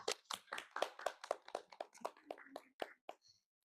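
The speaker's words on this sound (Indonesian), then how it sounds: "teman-teman beri tepuk tangan untuk Nabila" A small group of classmates clapping for a student in a counseling session, a brief ragged burst of claps that thins out and stops after about three seconds.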